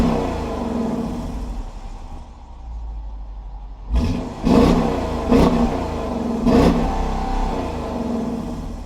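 A 2020 Dodge Durango R/T V8 revved at night, a steady engine rumble broken by three or four quick, loud throttle blips that flare and fade, heard close with no talk.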